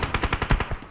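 Rapid automatic gunfire in the PUBG Mobile video game during a streamer team match, about ten sharp evenly spaced shots in one quick burst, loud and close, with no talk over it.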